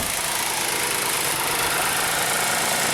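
A Hyundai car engine, running rough with a misfire, idles just after starting, a loud steady rumble with a faint uneven knock throughout.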